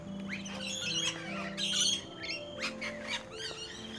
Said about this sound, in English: those are my noisy miners. And that there is a Tarisian crow that makes them alarmed.